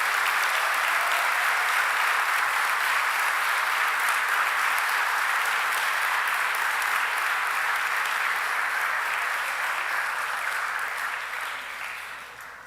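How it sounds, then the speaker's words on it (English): Sustained audience applause at a city Board of Aldermen meeting, honoring a women's champion team; dense, steady clapping from a full room that holds loud for about ten seconds before tapering off at the end. "One last big round of applause for our champions."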